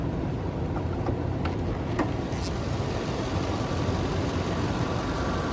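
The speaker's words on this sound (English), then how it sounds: "My favorite Toyota engine ever." A 4.7-liter 2UZ-FE V8 in a 2005 Toyota Tundra SR5 TRD Offroad idles steadily, a continuous low rumble with a few faint ticks over it, close by and with no one talking.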